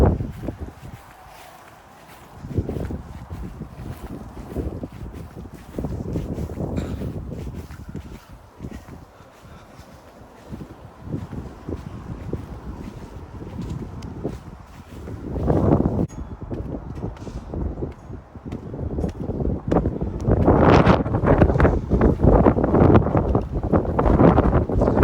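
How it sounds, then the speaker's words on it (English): Strong, chilly wind gusts outdoors in front of a house, roaring and buffeting the microphone in uneven bursts that build louder toward the end, with rustling and a few footsteps mixed in. "It's windy, bit chilly."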